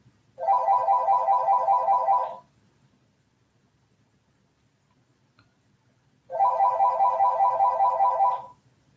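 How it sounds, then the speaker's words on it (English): A phone ringtone plays in two loud, close bursts of about two seconds each, separated by a long stretch of near silence, a steady warbling electronic tone with no voices. "Here we go again with that phone."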